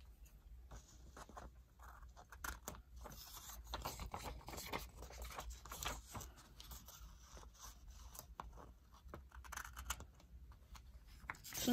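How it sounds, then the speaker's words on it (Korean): Scissors snip through tape during a paper-folding craft of a golden Mecha Bo mini car, making many quick, crisp close-up cuts mixed with light scratching and rustling, with no voices. "필요없는테이프는가위로잘라줄게요"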